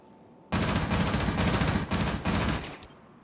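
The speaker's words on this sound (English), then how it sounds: "Some shooting going on." Sustained gunfire in a Rainbow Six Siege match: a dense, loud burst of rapid shots starting abruptly and rattling on for nearly three seconds, with two brief dips before it trails off.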